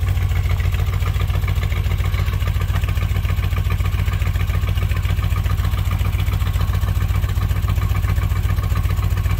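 A small engine runs steadily after the choke has kicked off, with a rapid even putter and mechanical clatter at close range and no talk.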